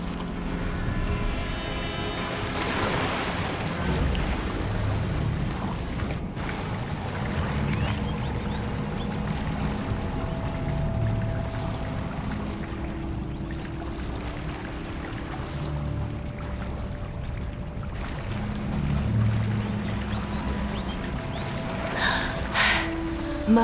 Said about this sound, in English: Where the water's bubbling.